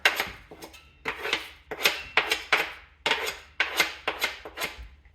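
Cilantro being mixed into a bowl of BBQ mixture, a rhythmic series of scraping, slapping strokes, about a dozen close, crisp hits at an uneven steady pace with no talk.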